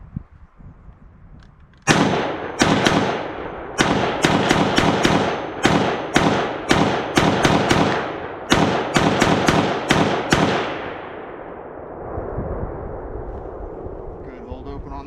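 Springfield Hellion bullpup rifle fired at an outdoor range: a fast string of about fifteen loud, sharp shots in an uneven rapid rhythm, ending with a fading echo and faint background noise.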